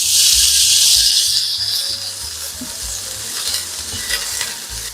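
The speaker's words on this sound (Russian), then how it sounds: "сковородочка нагрелась. Давайте отправим жирок. Пусть вытапливается." Beef fat renders in a hot pan for pilaf, sizzling and crackling with a bright steady hiss and small pops, loud and close, with faint low hum underneath.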